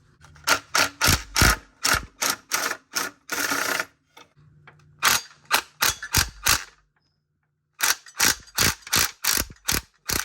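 A ratchet wrench loosens a 10mm nut off a stud on a 5.7 Hemi engine during exhaust manifold work. It makes loud, close bursts of rapid clicking, with a brief grinding run and short pauses between strokes.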